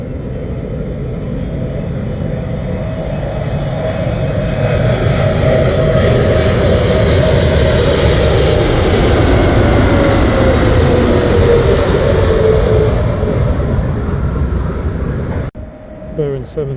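An Air Canada Boeing 777 lands at Heathrow Airport, a loud, sustained jet engine roar with a slowly shifting whine that swells through the pass and then cuts off sharply near the end.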